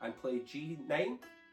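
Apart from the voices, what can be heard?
No distinct noise like a dog, phone or traffic.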